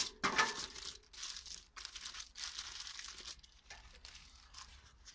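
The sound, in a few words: plastic bag crinkling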